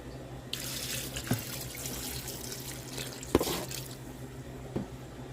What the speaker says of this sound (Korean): 이 위에다가 이제 식초를 붓습니다